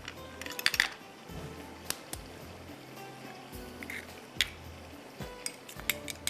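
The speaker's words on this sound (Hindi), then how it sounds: "अंडे को हम क्या करेंगे, फेंट के डालेंगे" An egg beaten with a spoon in a bowl while making smoked chili chicken, giving quick light clinks and taps in bursts, with brief metallic rattles against the rim and no talking.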